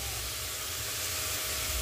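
Chicken frying in a cooking pan, a steady broad hiss and sizzle that holds constant throughout, close and moderately loud with no talking.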